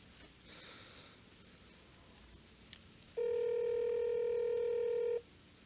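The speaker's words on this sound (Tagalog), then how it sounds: "Tawagan ko lang yung mami ko." A telephone call to mom: a faint click and rustle, then a single steady ringback tone sounds for about two seconds and cuts off abruptly, clear and close against quiet room noise.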